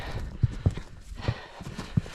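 A horse's hooves clip-clop on a backcountry trail ride, several distinct close thuds falling in an uneven walking rhythm over faint rustling.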